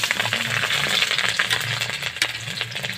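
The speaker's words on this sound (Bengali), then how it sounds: "রসুন ভেজে নিচ্ছি" Garlic frying in hot oil while being stirred in a wok, a dense, loud continuous sizzle with scraping and clinking from the stirring.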